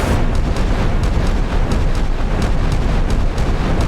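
A warship's weapons magazine detonates in the naval combat game Sea Power, as a cruiser battle between the Soviet Sverdlov and HMS Belfast plays out, producing a loud, sustained, rolling boom with crackling bursts inside a deep rumble, and no voices.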